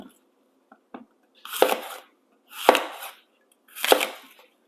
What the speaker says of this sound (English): This is how I mostly cut all my apples for this style of juicer, and then right down the middle.